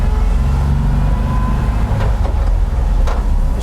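A 1958 Volkswagen Transporter T2 split-windscreen van pulls away in forward gear, its engine a steady loud low rumble heard from inside the cabin, with faint clicks and no talking.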